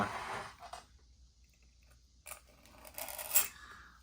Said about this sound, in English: I'll turn it sideways and just trim some of this flash off of the mold